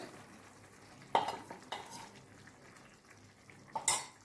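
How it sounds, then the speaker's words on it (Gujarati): A spoon stirs drumstick sabzi with spices in a pan, giving a few sharp metallic clinks and scrapes spaced a second or two apart over a faint, quiet sizzle. "અને હવે આપણે એને સરસ રીતે મિક્સ કરી લઈશું."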